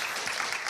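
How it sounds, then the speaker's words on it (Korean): Brief burst of audience applause for three professors at the close of a panel discussion at an asset-management seminar concert, a steady dense patter filling the short moment. "세 분 교수님께 박수 한번 보내주시고"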